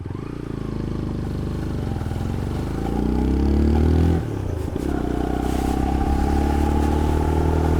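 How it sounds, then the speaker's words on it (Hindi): A motorbike ridden on a road in Sheohar, Bihar, its engine droning steadily and loud throughout with a brief rise in revs midway, close to the rider, with no talk. "हम बाइक चलाएंगे"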